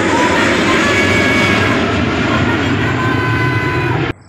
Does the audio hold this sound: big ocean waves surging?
no